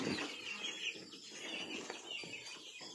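Chickens in a coop cluck and rustle with bursts of wing flapping, a busy, fairly faint jumble of bird calls and movement with no talking.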